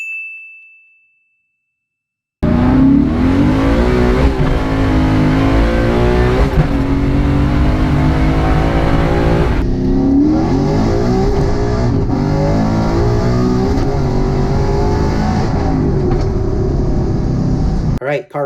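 A Coyote-swapped New Edge Mustang GT revs hard on a dyno, its V8 climbing steadily in pitch through a long, loud pull after a brief chime, then cutting off abruptly at the end.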